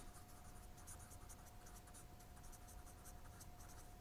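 Chalk or marker writing the conductance formula on a classroom board during a chemistry lesson, a steady scratchy stroking that runs continuously throughout, fairly quiet, with a faint hum underneath and no voice.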